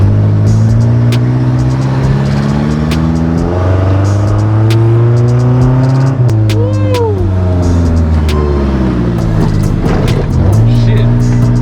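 Nissan S13 project car with weight reduction done, its exhaust loud and raspy as the engine revs up and down repeatedly, close by, with people talking over it.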